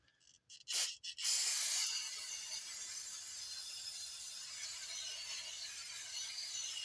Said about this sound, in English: And I'm going to spray that.